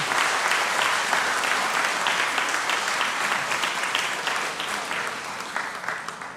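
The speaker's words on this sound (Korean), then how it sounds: "우리 함께 환영의 박수, 감사의 박수 하도록 하겠습니다." A church congregation applauds in welcome and thanks during a Sunday service, a dense, steady wash of many hands clapping together at close range throughout, with no voices over it.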